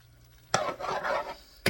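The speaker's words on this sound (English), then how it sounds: "I'm just going to keep stirring this around just until all of the noodles are covered" Pad thai noodles being stirred and tossed in sauce in a pan, with a soft scraping, sizzling swish and two sharper clacks of the utensil against the pan, close and fairly quiet, with no talk.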